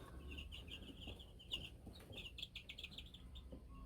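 Freedom Ranger chickens cluck in a steady flock chorus, with overlapping soft clucks and higher chirps running throughout over low background rumble, at moderate distance.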